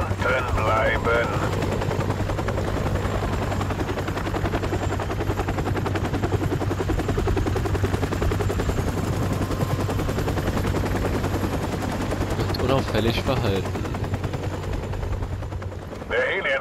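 A helicopter's continuous whirring rotor drone fills the whole stretch in the video game Modern Warfare Remastered, with bursts of rapid gunfire and a few spoken words over it.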